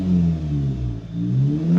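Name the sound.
Audi S3 8V engine revving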